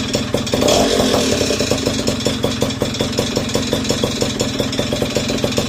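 A Yamaha Chappy moped fitted with a Polini 62cc kit idles loudly and close by just after starting, its small two-stroke engine beating with a fast, steady, slightly uneven pulse.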